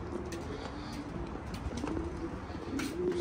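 Rooftop pigeons in a loft cooing softly and repeatedly, a low rolling call heard close over light background noise.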